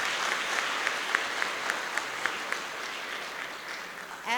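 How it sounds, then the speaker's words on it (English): Audience applause at a school women's event, a steady wash of clapping with a few sharper individual claps standing out, ending with a brief sweep of sound. "Please, let's all give her another round of applause."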